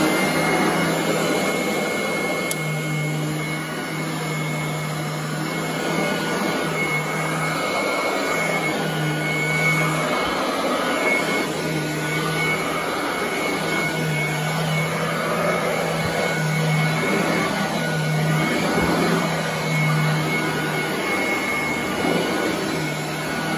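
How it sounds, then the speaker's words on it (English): A Royal vacuum cleaner runs over exposed floor areas with a steady, loud motor whine and airflow roar, and its pitch shifts slightly as it moves back and forth. "So here comes the vacuum part, and I'm going to use the Royal this time."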